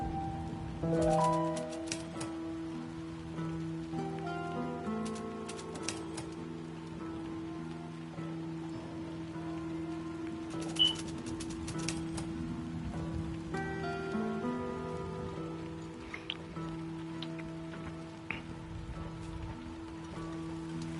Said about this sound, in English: It's raining outside and it's very dark.